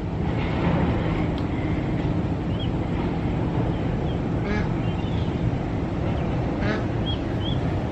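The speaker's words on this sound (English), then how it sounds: "Oh look, there's tiny little ducks. You see the ducklings?" Ducklings quack in short bursts beside a canal in Huntsville, Alabama, faint and intermittent over a steady broadband rush of moving water or distant traffic.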